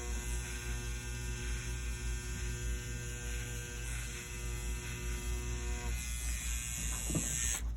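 A tattoo machine fitted with a 5-round liner doing line work runs as a close, continuous electric buzz with a steady mains-like hum and tonal whine, unbroken throughout and with no talking.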